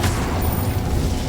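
Incendio fire spell cast in Hogwarts Legacy, a loud, dense roaring burst of flame and rumble that fills the whole moment with no speech over it.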